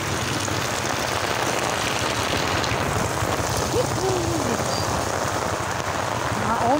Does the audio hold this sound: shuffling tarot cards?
no